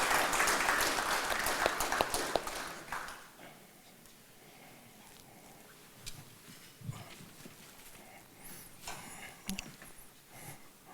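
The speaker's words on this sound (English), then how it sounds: "Round of applause, ladies and gentlemen, round of applause." Applause from a ceremony audience welcoming the President of Fiji to deliver a keynote at the national SME awards, loud at first, then fading within a few seconds to scattered claps and room noise.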